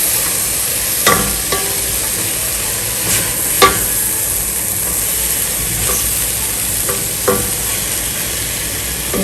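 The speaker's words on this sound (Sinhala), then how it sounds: "තක්කාලි මේක තෙලේ පැනලුම් දෙන්නේ." Ground tomato frying in hot oil with pepper powder for oats soup, a steady close sizzle with occasional sharp scrapes and taps of a spoon stirring the pan.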